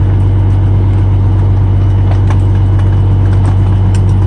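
Pak Mor 35-yard rear load garbage truck with its engine rumbling loudly and steadily while the packer blade comes down, with faint clanks on top.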